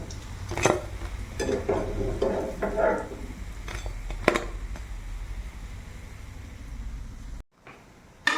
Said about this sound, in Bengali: এখানে একদম অল্প আঁচে ভাজতে হবে